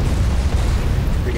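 The flat cannon fires in a video game as a dense, continuous low rumble of booming blasts, loud and close for the whole stretch with no clear gaps.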